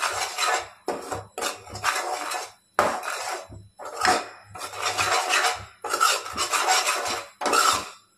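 A spoon mixes mustard powder and coriander powder in a bowl for an egg pickle, giving repeated scraping and clinking strokes in short bursts separated by brief pauses, close and clear with no talking.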